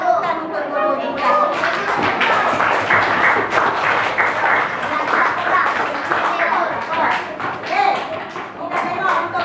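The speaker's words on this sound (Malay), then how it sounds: "bagi tepukan untuk guru juga." A school class claps for the teacher during a Malay language lesson, brisk uneven hand claps and taps from many children, close and loud, with some voices mixed in.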